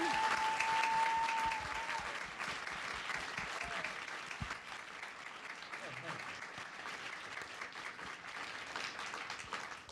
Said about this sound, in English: with a big hand of applause, we're going to welcome back our spacesuit engineers, Dustin and Christine.